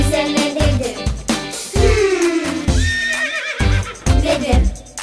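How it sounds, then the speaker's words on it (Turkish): A horse whinnies within a Turkish children's nursery song about breakfast animals, its high, wavering neigh sung over steady musical accompaniment with singing voices, loud and continuous across the short passage. "At geldi koşarak sonra bize ne dedi?"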